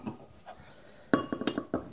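La Goudale beer being poured into a craft glass, with a few quiet glassy clinks and short splashy bursts after a near-silent start.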